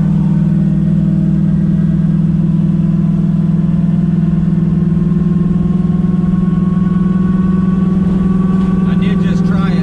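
A turbocharged car's engine pulls hard through a corner during an open-loop boost control test run with dual MAC valves, a loud, steady droning hum from inside the cabin that holds throughout with slight tonal shifts.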